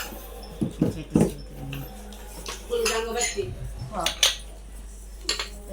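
Spoons and cutlery unboxed and handled at home, with scattered metallic clinks and rattles close by, mixed with people talking and a small dog whimpering.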